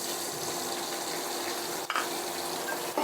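Egg dropped into a pan of lightly browned onions while frying kakrol bhaja, giving a steady close sizzle with a brief burst of crackle partway through, no voices.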